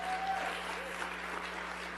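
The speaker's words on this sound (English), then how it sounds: "Give Brent a well-deserved round of applause." An audience at a LULAC event gives Brent Wilkes a round of applause, a steady, moderately faint patter of many hands over a low hum, lasting two seconds.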